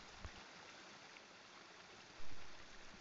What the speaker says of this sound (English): Just listen the sound of water before sleeping